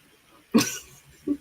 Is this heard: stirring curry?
no